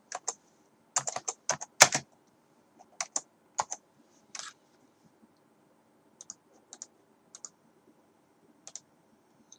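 Keys on a computer keyboard clatter in a quick burst of close presses, then slow to scattered single clicks separated by quiet gaps.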